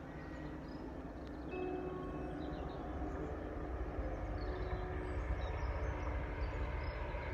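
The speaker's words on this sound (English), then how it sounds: "It's a train." A train rumbles past by a river in a steady, distant low roar that holds evenly throughout, with faint outdoor ambience over it.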